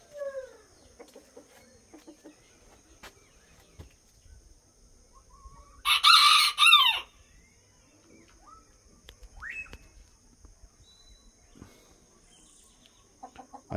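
Chickens in a coop on a ranch cluck and chirp in scattered bursts, and a rooster lets out one loud crow partway through against a quiet background.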